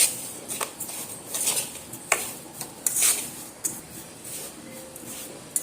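Sugar being stirred into semolina in a pan for semolina barfi halwa: soft scraping with scattered light clinks of spoon on metal, fairly quiet, no voices.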